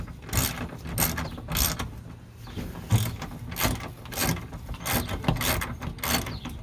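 A ratcheting wrench turns a bolt on a van during a remodel, with repeated rhythmic clicking strokes, close and moderately loud, and no talking.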